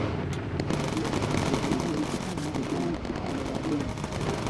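A .50 machine gun in the bomber aircraft game Bomber Crew fires in rapid, continuous bursts, a dense rattling barrage under a droning engine, loud and close throughout.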